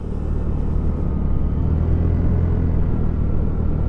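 A cheap Honda twist-and-go CVT motorcycle being ridden on a sunny day, its engine a steady low rumble blended with constant wind roar, no breaks in the sound.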